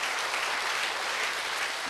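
A church congregation applauds during a Korean Sunday worship service, a dense, continuous wash of clapping from many hands that holds steady and fairly loud throughout the two seconds.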